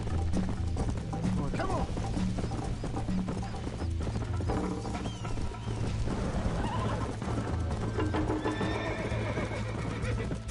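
A horse gallops in the Western video game Red Dead Redemption, dense rhythmic hoofbeats pounding nonstop under a music score, with whinnies and someone speaking briefly over the action.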